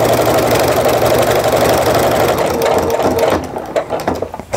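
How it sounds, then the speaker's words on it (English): A sewing machine with a walking foot stitches through a quilted Christmas tree mug rug, running loud and steady at speed for about three seconds before slowing and stopping, with no talking. "I've got my walking foot lined up with the edge of my piecing, and I'm just gonna stitch into that trunk."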